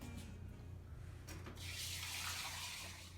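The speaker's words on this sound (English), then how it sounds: "Now we're going to get a cup of water." Water runs from a tap into a cup, a steady quiet stream that grows brighter and fuller as it pours, with no voices.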